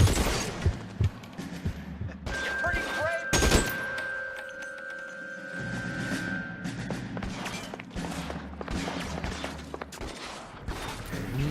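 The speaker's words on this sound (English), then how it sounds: "Wow, I shot his hat off." Gunfire from the 1940s Los Angeles detective game L.A. Noire: a dense, chaotic volley of shots and crashing impacts, loud and close, with a heavy burst early on, mixed with game sounds and a few spoken words.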